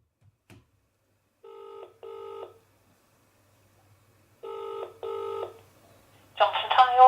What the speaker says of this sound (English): So I'm now going to phone that mobile phone number and see if I can get hold of this contact.